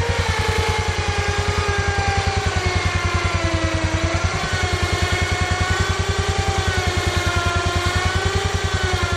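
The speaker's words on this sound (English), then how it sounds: "you want to make sure that the winch is doing the work" An electric ATV winch mounted on a 2016 Polaris Ranger side-by-side pulls in its line, giving a steady, close, loud motor drone with a fast regular pulsing throb and a slightly wavering whine, with no talk.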